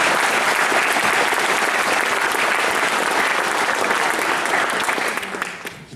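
A crowd at a talks event bursts into sustained, dense applause that stays loud and steady before tapering off in the final second.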